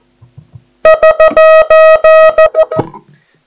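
Morse code SOS radiotelegraphic distress signal with the letters run together, a loud steady tone broken into a continuous string of short and long beeps, preceded by a few faint low thumps.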